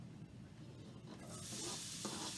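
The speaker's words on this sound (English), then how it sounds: "into that bacon fat that I have in my frying pan, I'm going to add the onions that I chopped." Quiet, steady sizzling of one chopped yellow onion frying in bacon fat in a frying pan, a soft crackling hiss that grows slightly brighter toward the end.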